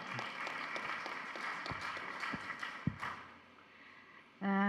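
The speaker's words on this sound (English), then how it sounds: "Let's give her a clap." An audience at a county government session claps for a welcomed official, producing faint, scattered applause that fades out before a voice begins speaking.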